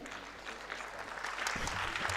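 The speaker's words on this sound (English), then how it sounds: "Let's clap for them." An audience claps for a children's assembly planning team at a national meeting in Kenya, the applause starting moderately and swelling louder over about two seconds as a steady, dense patter.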